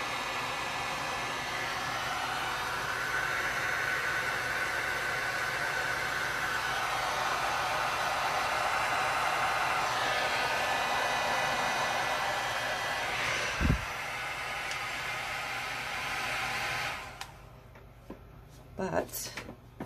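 A heat tool runs at half heat, blowing on a tumbler with a steady, close whooshing hiss for most of the clip. A brief knock interrupts it before the blower cuts out near the end, leaving a few small handling clicks.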